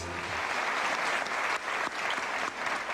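A crowd of supporters cheers and applauds steadily for a woman walking past, with dense clapping that briefly dips twice before swelling again, loud and continuous throughout.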